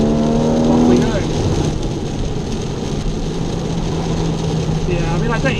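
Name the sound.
Porsche 981 Boxster GTS engine as car drives off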